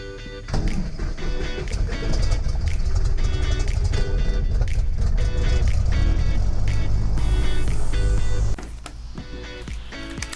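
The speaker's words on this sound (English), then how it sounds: "So now our engine just started and we're gonna continue" A Cessna 172 Skyhawk's piston engine starts and settles into a loud, steady idle with a pulsing, harmonic drone close by. It runs continuously for most of the clip, then drops abruptly near the end.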